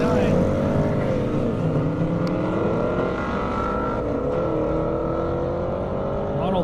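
1969 Ford Mustang Boss 302 at a half-mile airstrip drag race at Indy, a loud sustained engine roar with shifting pitch heard under an announcer's talk throughout.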